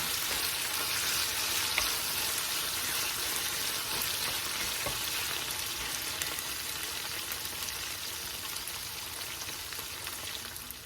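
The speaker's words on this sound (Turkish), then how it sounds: "Domates böyle 2 dakikadır kavruluyor. Zeytinyağıyla." Dried tomatoes sautéing in olive oil in a pan produce a continuous, fine-grained crackling sizzle, steady and fairly soft for about eleven seconds, with no talking.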